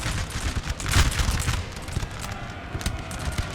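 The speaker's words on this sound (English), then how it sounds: "they're shooting at my cavalry, so they're not shooting at the light infantry" Massed musket volleys crackle across a Napoleon: Total War battlefield, a dense rolling fusillade of overlapping shots, loud and continuous with occasional sharper cracks.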